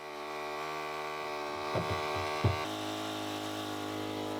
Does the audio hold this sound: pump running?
yes